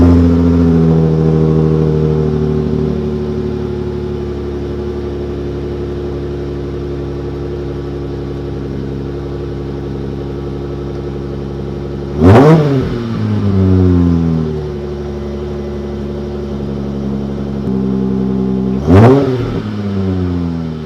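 A V6 Dodge Challenger with a resonator-delete exhaust drones loudly at a steady cruise, then barks through two sharp revving bursts as the engine climbs and drops, heard up close with no talk.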